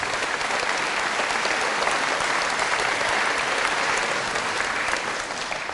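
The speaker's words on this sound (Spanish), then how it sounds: "Fuertes aplausos, Jesús." Strong, steady applause from a church congregation fills the space, dense and continuous throughout before easing slightly at the very end.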